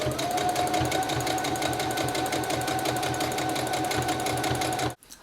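A sewing machine stitches steadily over gathered fabric bunches on a homemade dress, its rapid mechanical chatter running continuous and close before cutting off abruptly near the end.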